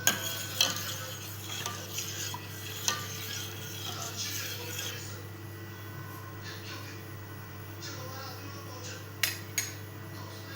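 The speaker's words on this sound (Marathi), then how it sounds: "इथे आता आपण दूध उकळून घेतोय" Milk boils in a pan while a utensil stirs it, with scattered scrapes and clinks over a constant low bubbling hiss. A few sharper knocks stand out near the end.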